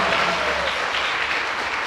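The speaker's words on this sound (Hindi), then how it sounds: "सम्मान जोरदार ताली बजा के कर दें" An audience claps loudly and steadily for two young girls at a children's religious class in Chirgaon, a dense continuous round of applause with no voices over it.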